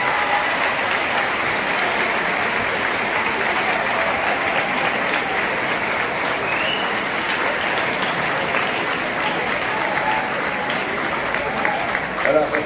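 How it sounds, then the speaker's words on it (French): An audience applauds young council members, a steady, dense clatter of many hands clapping that holds evenly throughout, with brief speech mixed in. "Je voudrais que vous les applaudissiez."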